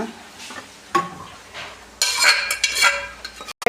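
Dried red chillies sauté in a pan, with quiet sizzling and scattered metallic scrapes and clinks from a spoon, then a louder burst of stirring and frying that cuts off abruptly near the end.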